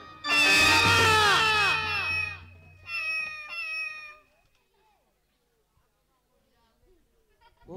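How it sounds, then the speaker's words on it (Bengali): A cat meows repeatedly and loudly in quick succession, the calls rising and falling, then a few shorter meows follow before the sound fades to near silence. "ও বা, এটা বিড়াল।"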